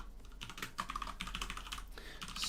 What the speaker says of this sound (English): I hope my keyboard isn't too loud.